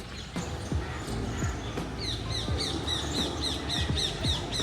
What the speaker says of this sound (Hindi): इसकी शाम के समय यहाँ पे आवाज़ सुनिएगा ना, चिड़ियों की अलग अलग आवाज़, मन मोहित हो जाएगा आपका